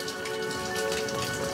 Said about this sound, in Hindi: बैकग्राउंड म्यूजिक बारिश का कैसा लग रहा है